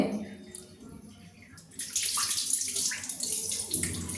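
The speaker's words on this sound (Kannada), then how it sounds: "ಒಂದು ಬೌಲ್ ಆಗೋವಷ್ಟು ಅವಲಕ್ಕಿ ತಗೊಂಡು ಈಗ ನೋಡಿ ವಾಶ್ ಮಾಡ್ಕೊಂಡು ಬಂದುಬಿಡ್ತೀನಿ" After a quiet moment, running water splashes steadily into a bowl as beaten rice is rinsed under the flow, close by.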